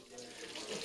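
Brief, faint rush of warm water running from a tap into a dog shower house, a short steady splashing stream.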